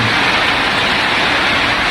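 Heavy rain pours down at a construction site as a dense, constant hiss of drops on surfaces, loud and close, with no voices.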